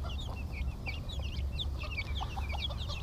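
Guineafowl and chickens clucking together on a small family farm, with steady overlapping chirps and clucks close by over a constant low rumble of background noise.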